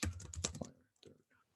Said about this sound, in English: I'll keep typing it so my handwriting isn't bad.